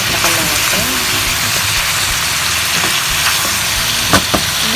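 Skinless hot and spicy lechon belly frying in olive oil, a loud continuous sizzle and crackle close up with a few sharp pops near the end.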